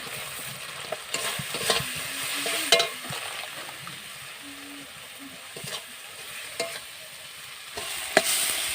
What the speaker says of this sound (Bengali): মশলাটা খুব সুন্দর লাল লাল করে কষানো হয়ে গেছে তেল ছাড়বো ছাড়বো হয়েছে